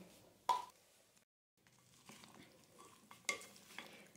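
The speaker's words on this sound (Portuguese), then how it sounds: "Eu gosto de misturar um pouquinho antes de colocar a maionese." A spoon stirs bacon through potato salad in a bowl, two distinct clattering scrapes with soft mixing between and a brief silent gap, close but quiet.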